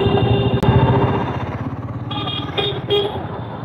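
A motorbike horn honks a couple of short times over a steady engine rumble and passing traffic noise, fairly close.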